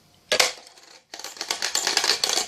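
Coins clatter during a coin-penetration magic trick with a covered container: a sharp metallic drop near the start, a brief pause, then a longer run of rapid jingling and rattling, close and fairly loud, with no talk.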